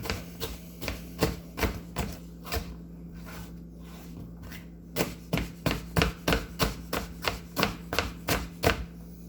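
A knife chops a red vegetable on a cutting board for homemade chili, with a quick run of crisp, evenly spaced knocks, a pause, then another brisk series of close, distinct chops.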